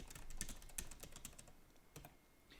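Keys on a computer keyboard clack in a quick, irregular burst of typing, close but faint, with no voices.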